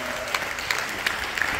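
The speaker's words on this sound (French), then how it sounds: "Applaudissements s'il vous plaît." Audience applause at a women's day celebration in Congo, dense and steady with sharp individual claps standing out, filling the short moment.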